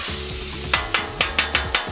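Lamb mince sizzles on a Weber Slate griddle while a utensil chops into it six times in quick, fairly even succession, each sharp scrape cutting through the steady frying hiss.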